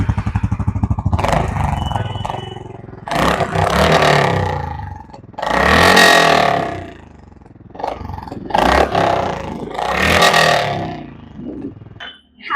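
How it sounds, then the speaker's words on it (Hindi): A Honda CB350RS motorcycle engine, close by, idles with a steady thump and then is revved hard several times in a row, each rev swelling into a throaty roar before dropping back to idle. "तो सबसे पहले जो हम साउंड सुनना चाहेंगे वो आरएस का साउंड सुनना चाहेंगे।"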